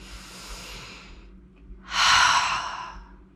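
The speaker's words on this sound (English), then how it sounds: "take a full breath in and out." After a floor stretch with a strap, one faint breath in is followed by a louder, full sighing breath out, close and clear, with no talking.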